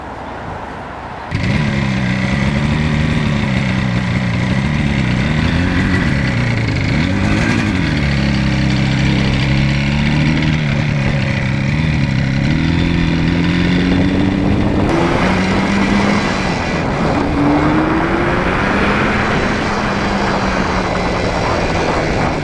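A 1977 Yamaha RD400 motorcycle, freshly repaired with new carburettor pilot jetting, starts up and then runs loud and close for about twenty seconds, its engine note rising and falling with throttle blips and revs, with no talking.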